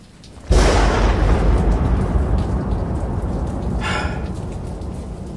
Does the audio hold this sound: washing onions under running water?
no